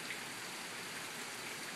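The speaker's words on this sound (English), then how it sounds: "As you can see, it's raining" Steady rain falling at night on a street, a soft, even hiss with a faint patter, constant and fairly quiet throughout, with no voices.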